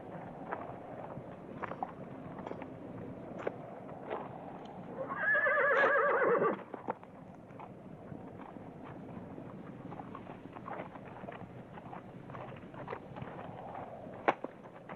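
A horse whinnies loudly for about a second midway through, set against steady hoof clip-clop and outdoor ambience in a 1975 Western film scene, with no talking.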